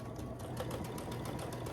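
Sewing machine running steadily while stitching a long quilt seam, a fast continuous rhythmic chatter of the needle over a low motor drone, close and moderately loud with no talking.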